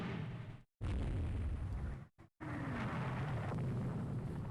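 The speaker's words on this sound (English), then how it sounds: "She just emptied her broadside into us." Warship broadside shells exploding in the naval game Rule the Waves 3: a dense, loud roar of blasts with two abrupt cutoffs, heavy low rumble throughout, no voices.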